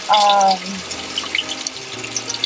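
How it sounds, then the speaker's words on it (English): Water pours into the tub of a Whirlpool WGT330SQ1 top-load washer in a stacked washer-dryer unit, a steady close rush of filling water, loudest at the start and then a softer continuous flow with faint tonal hum. "see the water filling up in the washer"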